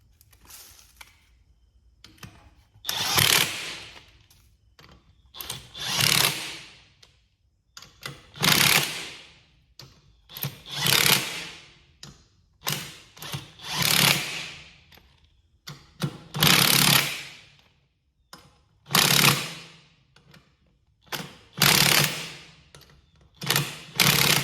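Ratchet tightening six new lug nuts on a General Lee car, heard as bursts of rapid clicking that come in a steady series of close, loud runs with short pauses between.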